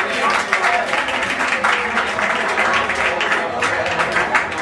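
Applause at a late-night karaoke party: a crowd claps steadily and fairly close throughout, mixed with talking voices.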